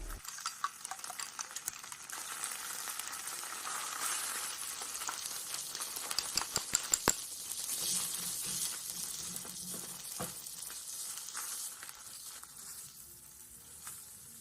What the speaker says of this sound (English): I want to use this tuna oil to stir fry. I'm going to break 2 eggs and stir them in right away.